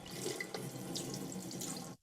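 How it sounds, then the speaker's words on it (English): Tap water runs steadily into a sink as a gas boiler's dirt filter is rinsed under it, a close, continuous splashing flow that cuts off abruptly at the end. "Rinse the dirt filter thoroughly under clean running water."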